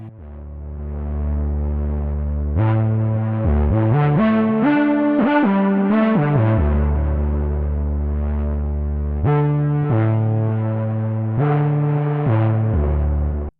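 A synthesizer in Bitwig plays a sustained chord progression with a shimmering, slightly gritty chorus effect thickening the tone, loud and continuous with no talking.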